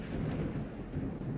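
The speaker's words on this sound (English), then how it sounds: "It's raining right now" Steady rain with a low thunder rumble in S.T.A.L.K.E.R. Shadow of Chernobyl, a continuous dense wash with no distinct claps, heard alone.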